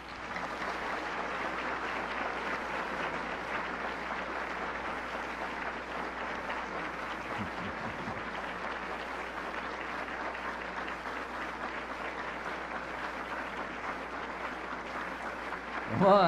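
Audience applause calling singers back onto the stage at a local event, a steady, sustained wash of clapping that holds evenly for over fifteen seconds with no talk over it.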